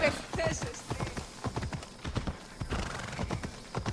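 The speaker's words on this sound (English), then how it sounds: "I kind of wish the horse kind of moved faster within the cities." Rhythmic hoofbeats of a galloping horse in Assassin's Creed Odyssey, steady and close, with a brief whinny near the start over faint background game ambience.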